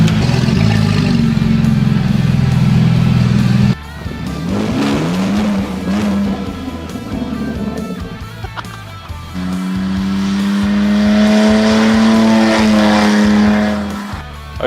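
A Holden Commodore engine with its exhaust removed revs loudly and raw up close, droning steadily, dropping off briefly, then climbing through long sustained blips with a harsh, open rasp and no talking.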